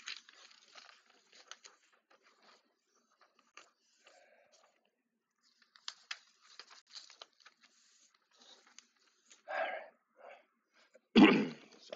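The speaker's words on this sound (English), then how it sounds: "I'm coughing." A single harsh cough breaks out near the end, preceded by a rougher throat burst, amid quiet plastic clicks and handling of Gundam Mk-III model kit parts.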